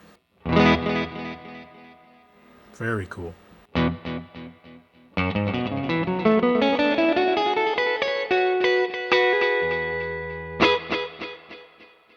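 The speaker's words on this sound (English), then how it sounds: "the Cooper Time Cube, which is a really unique delay with filters" Electric guitar notes and chords played through a Cooper Time Cube filtered delay pedal, with repeating echoes that sweep and shift in tone; someone briefly speaks near the end.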